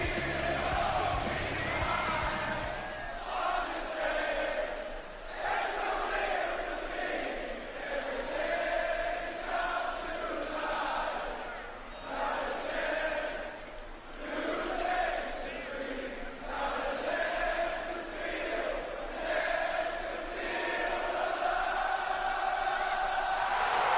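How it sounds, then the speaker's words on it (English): A wrestling show crowd in the WWE 2K video game roars and chants continuously, a dense, loud wall of cheering that swells and dips, with commentators talking over it. "And listen to this crowd."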